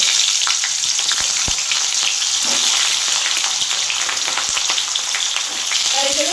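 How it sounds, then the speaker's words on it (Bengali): Flat beans fry in hot, smoking oil in a wok, giving a loud, steady sizzle throughout, with a few scraping stirs and light clinks and no voices. "আমি প্রথমে শিমটা ভেজে নেব"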